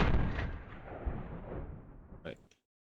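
A Simonov AVS-36 rifle fires a single loud, booming shot that echoes and rolls away for about two seconds, followed by a short mechanical clack.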